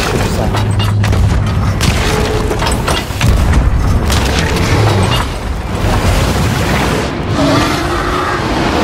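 Cannon blasts in the pirate game Sea of Thieves launching players out, heard as a dense, loud booming roar with heavy low rumble that runs throughout, with a brief surge near the middle.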